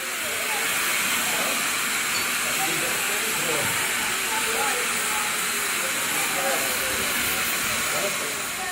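Repton, a Southern Railway Schools class 4-4-0 steam locomotive numbered 30926 in British Railways colours, lets off a loud, continuous hiss of steam that lasts throughout, with faint voices beneath.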